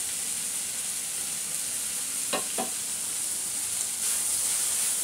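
Vegetables with fresh coriander leaves being stirred in a pan for a snack: a steady, soft frying hiss throughout, with two brief scraping stirs near the middle and a slight rise in sizzle toward the end.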